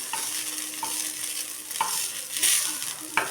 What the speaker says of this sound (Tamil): பொறுமையாக வதக்கிக்கணும் நல்லா திருப்பி விட்டு திருப்பி விட்டு நல்லா வதக்கிக்கணும்